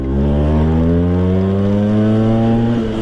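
A Vespa PX scooter fitted with a VMC Super G 177cc kit pulls hard in second gear, its two-stroke engine droning loud and steady with a tone that climbs evenly throughout.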